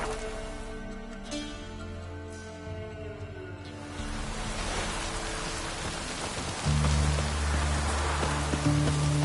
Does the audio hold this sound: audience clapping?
no